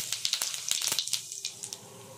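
White cumin seeds crackle and sizzle in hot oil in a pan, a quiet burst of sharp pops and spits that gradually thins out over a couple of seconds.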